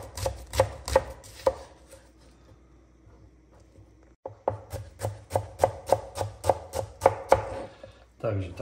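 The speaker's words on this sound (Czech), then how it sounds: "že si zase nakrájím cibuli." Onion chopped with a knife on a board, crisp rhythmic knocks in quick bursts, a pause of a couple of seconds, then a steady run of evenly spaced chops, close and clear.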